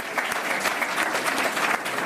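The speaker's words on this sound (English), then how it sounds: "Can we give them a very warm round of applause?" An audience at a European elections democratic participation event in Bruges gives the interpreters a warm round of applause, a thick, continuous burst of clapping from many hands, loud and close throughout.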